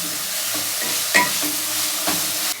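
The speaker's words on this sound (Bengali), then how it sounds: "এবার এটাকে আবার একটু ভালো করে নাড়াচাড়া করবো" Chicken momo filling sizzles steadily in an oiled pan, with a few sharp scrapes and clinks as a utensil stirs it. No one speaks.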